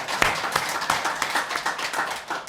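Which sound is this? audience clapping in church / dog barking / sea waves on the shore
audience clapping in church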